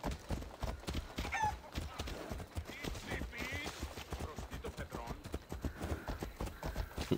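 Horse hooves clip-clop in a steady, busy rhythm in the video game Assassin's Creed Odyssey, mixed with game sounds and someone talking over the top.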